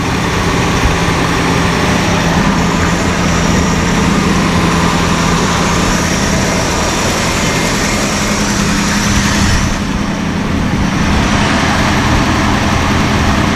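The V8 of a 1978 Dodge Ramcharger idles loud and close with a steady low rumble, and a lifter tick that may be present is hard to pick out under the engine's dense, continuous drone.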